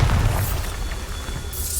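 A Bombarda blast spell from Hogwarts Legacy booms out loud and close, with a heavy low-end burst at the start that rumbles on for about two seconds before a brighter crackle at the end.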